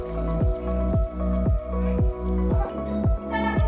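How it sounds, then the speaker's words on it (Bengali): Boiled chickpeas and potatoes being poured into a pan of cooked-down spiced masala for paneer kabuli, giving a series of wet, regular squelching plops under a low, continuous sizzle, close and fairly loud. "এবার আমরা দেব কাবলি ছোলা আর আলুটা সেদ্ধ করে রেখেছিলাম,"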